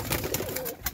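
A pair of Andhra pigeons gives a short, faint coo with a wavering tone against quiet background noise.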